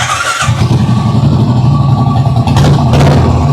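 A Royal Enfield motorcycle engine fitted with a custom silencer idles loudly and steadily with a deep, throbbing low rumble, close by, with a brief dip near the start.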